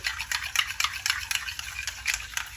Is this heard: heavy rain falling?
no